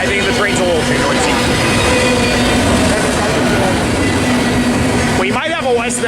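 A train rolls past at Commerce with loud, continuous rumbling and rattling that fill the whole stretch, and a short horn-like tone rises near the end.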